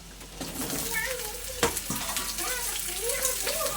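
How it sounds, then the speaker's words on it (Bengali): Mashed green banana sizzles and spatters in hot oil with fried onion and chopped chili, a close, continuous crackle with scraping stirs and a sharp clink, while a voice talks quietly over the cooking. "এবারে বেটে ধুয়ে রাখা কলাটা এর মধ্যে দিয়ে দেবো"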